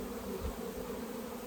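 Honey bees buzz densely inside an open hive during a manual split, a close, loud, steady drone with no talk.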